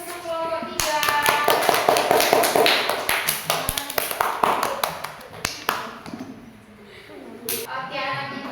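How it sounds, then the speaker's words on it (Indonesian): Classroom of children clapping for a student group after their presentation on a rice-field ecosystem, a dense burst of quick hand claps that thins and tapers off over several seconds. "Beri aplaus untuk kelompok 3."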